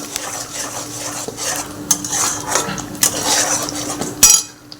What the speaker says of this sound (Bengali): এবার আমি একটু নাড়িয়ে দিই